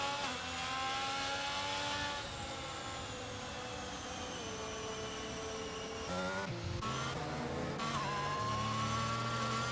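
F1 22 race car in Canada screaming through a fast lap in the video game, a continuous high-revving engine note with rising pitch sweeps and sharp downshifts near the end, loud and steady with no talk.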